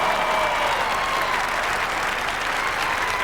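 Loud, sustained applause and cheering from a large crowd at the Crufts dog show, steady and dense throughout with no pauses.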